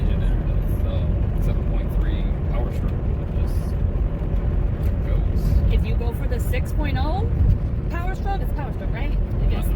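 A truck towing a heavy rig labors up and down hills, its engine drone loud and steady throughout, with people talking over it.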